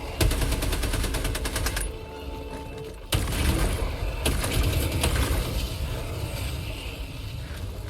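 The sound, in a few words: gunfire in the video game Helldivers 2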